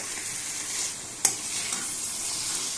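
Curry sautéed in a pan until dry, a steady hiss of frying under slow stirring, with one sharp scrape or tap of the spoon partway through, close and without speech.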